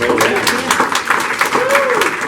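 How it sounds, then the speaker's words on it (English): Steady applause from a crowd for the speakers at a community event on homelessness in Granada Hills, a dense patter of clapping with some voices mixed in throughout. "A round of applause for our speakers."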